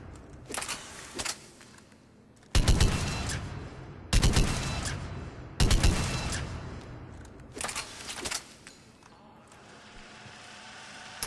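Argus assault rifle from Mass Effect 3 firing at long range in a target practice, several separate bursts of rapid shots with quieter gaps between them, moderately loud.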